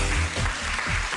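A burst of clapping from a studio audience on a radio show, dense and fairly loud, with a few swells in intensity over a brief moment.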